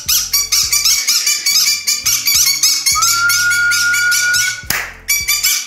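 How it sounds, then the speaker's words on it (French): Two Molina conures squawk loudly and near, shrill, raspy calls in rapid repeated bursts with one sustained whistle-like screech, then a brief rustle before the harsh calls return. "Excusez-moi pour ce bruit sacrément vénère, c'est les deux conures."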